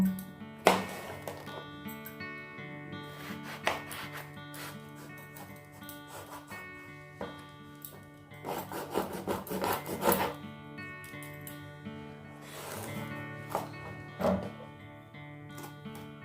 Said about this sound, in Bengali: এক্ষেত্রে আমি বেগুনটাকে লম্বা লম্বা করে কেটে নেব।